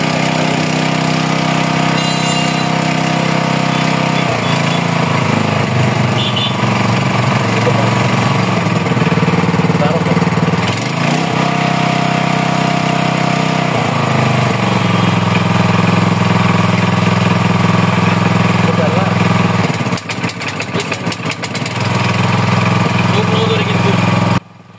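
A Diamond 3-inch gasoline water pump engine runs steadily and loud at close range, holding an even idle with slight shifts in pitch and a brief sputter near the end before cutting off.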